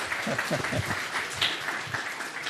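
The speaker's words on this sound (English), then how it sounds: "And I take a round of applause for that" Audience applause at a business and technology forum, a short dense burst of many hands clapping at moderate volume, with some voices mixed in.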